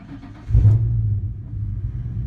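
A Ford Crown Victoria engine starts: a brief crank, then a sudden low rumble as it catches and settles into a steady, fairly loud idle close by, with no talk.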